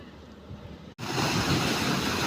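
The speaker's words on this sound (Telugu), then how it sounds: "నాకైతే వినసొంపుగా ఉందన్న ఇలా వాటర్ వస్తే దాదాపు ఒక చిన్న చెరువు కూడా ఒక వన్ అండ్ హాఫ్ రెండు టూ అవర్స్లో నిండిపోతుందన్న" Krishna river floodwater pours into a small pond, a steady, loud, broad rushing that surges in after a brief cut and then holds constant.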